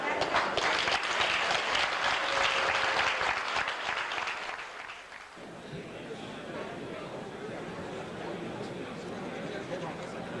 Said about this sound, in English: I'd like a little applause for the man that made this possible.